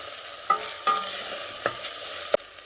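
Tomato paste frying in a pan for a chickpea and bone-broth stew, a soft steady sizzle broken by four distinct scraping knocks of the stirring utensil.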